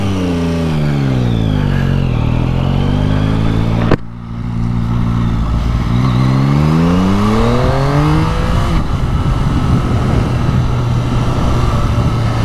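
A 2025 Yamaha MT-09 SP motorcycle engine revs hard and loud up close, pitch climbing and falling through several sweeps, a sharp break near four seconds, then another rising run into a steady high roar.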